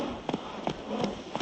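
Roach the horse galloping in The Witcher 3, rhythmic hoofbeats in quick pairs repeating steadily at moderate loudness.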